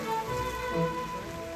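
Steady wash of heavy rain hissing on surfaces at a market in Norway or Iceland, continuous and fairly close, with a faint tonal hum underneath.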